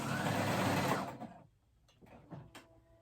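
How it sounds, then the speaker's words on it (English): A sewing machine zigzag stitching runs at speed with a close, steady mechanical whir, then stops, leaving a few soft handling clicks and rustles. "I go in with a zigzag stitch on my sewing machine"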